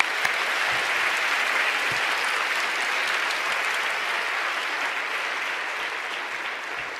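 Steady applause from a large church congregation, a dense wash of clapping that holds at an even level throughout.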